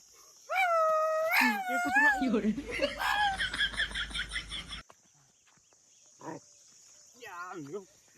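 A person howls and yelps in imitation of a dog, loud and near, followed by quieter bursts and a brief whine over a faint insect hum.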